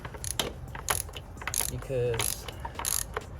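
A ratchet on a 12-inch extension turns a spark plug out on a Jaguar F-Type in a tight engine bay. Quick bursts of close metallic clicks come in short rhythmic runs, and a voice briefly speaks.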